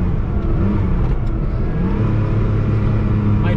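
Air-cooled Porsche 911 with a 915 gearbox driving on the road, its engine droning steadily and loud from inside the car, pitch rising slightly as it pulls, with no talking.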